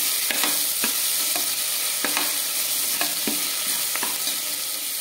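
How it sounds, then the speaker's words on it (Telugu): Ginger garlic paste fries with onions in a pan for potato rice, a loud, constant sizzle broken by regular stirring scrapes about once a second. "దీన్ని పచ్చివాసన పోయే వరకు బాగా ఫ్రై చేసుకోవాలి."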